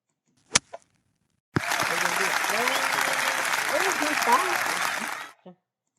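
Spectators break into sudden, sustained applause for a 343-yard golf drive, the dense clapping lasting about four seconds before cutting off, with someone talking over it.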